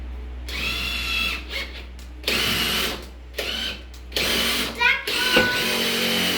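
Power drill driving cheap screws while levelling a floor, several short whirring bursts with pauses between them, fairly close and loud, each run ending in a brief ratcheting stop.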